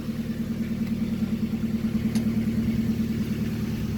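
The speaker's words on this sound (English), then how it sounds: "By the way, it still has an exhaust leak." A 1998 Ford Escort ZX2 engine idles nearby with an exhaust leak at the muffler, a steady even rhythmic putter and hum that holds constant throughout with no talking.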